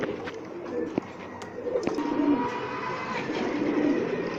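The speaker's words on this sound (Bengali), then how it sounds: "এটা মাদি কবুতর, 2 চশমা, এটা 2 চশমা কবুতর" Soft, low cooing from pigeons, including a female fancy colour-breed pigeon, repeats in short phrases over steady background noise, moderately close, with faint voices in the distance.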